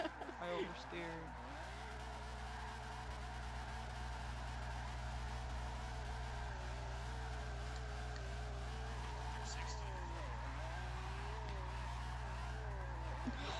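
A wide-body Honda Civic oversteers in Forza Motorsport 7, tires squealing and skidding in a sustained wavering screech over engine drone, with people talking over it.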